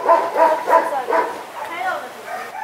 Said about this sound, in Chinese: 鸡鸣狗叫真的太吵了